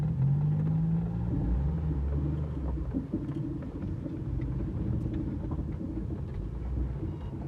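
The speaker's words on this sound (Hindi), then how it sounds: "शुक्र है इसकी गाड़ी स्टार्ट हो गई है।" A car engine running after being started, a low steady rumble close by that holds evenly throughout.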